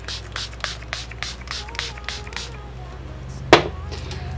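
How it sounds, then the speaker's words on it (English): Short hissing bursts of glitter spray come in a rapid repeated series under a low hum, followed after a pause by a sharp click or clatter. "we're going to go into the glitter spray"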